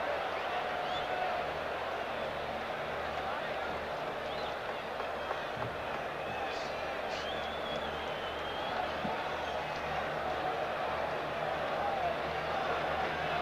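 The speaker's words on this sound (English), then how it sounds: "Can hear the buzz in the crowd." Steady murmuring buzz of a large baseball stadium crowd at an opening-day Yankees versus Red Sox game in 1985, a continuous dense wash of distant voices with no breaks, loud and even throughout.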